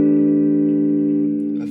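A sustained electric guitar chord from a Fender Player Telecaster played through a Fender Champion 20 amp set heavy on reverb and delay rings out smoothly and slowly decays, with a faint pick scrape at the end.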